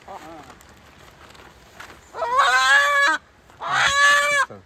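A rooster and hen in a riverside village call out with two loud, drawn-out, strained crows in quick succession, preceded by faint quieter clucking sounds.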